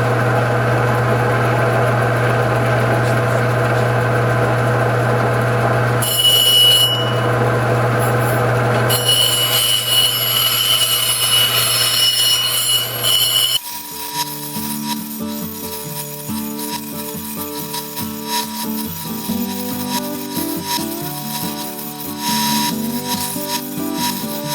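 Easy Cab cabbing machine grinding black banded agate with a 100 grit wheel, a steady motor hum with rubbing grind that shifts to a busier, more tonal machine whir partway through, close and continuous with no talk.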